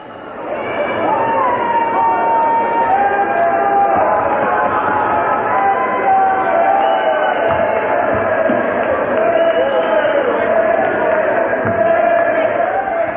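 A crowd at a Thai boxing fight roars and cheers loudly and continuously, a dense wall of shouting and whistling voices sustained throughout with slight swells.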